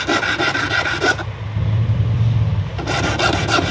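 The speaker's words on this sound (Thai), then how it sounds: "มีเส้นตะไบหยาบเลยนะครับ" A coarse file rasps back and forth across the edge of an acrylic amulet frame, loud harsh strokes that pause briefly and then resume, close up.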